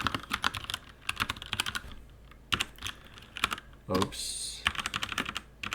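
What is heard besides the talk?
typing on a computer keyboard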